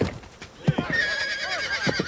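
A horse lets out a loud, close whinny that rises and wavers for about a second, with a few dull thumps around it and no talking.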